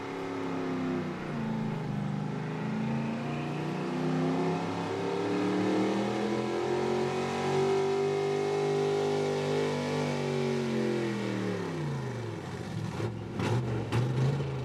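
A pulling truck driven by Luke Smeltzer roars through a run at a truck and tractor pull, its engine held at a loud, steady high rev that climbs, sustains, then drops off near the end.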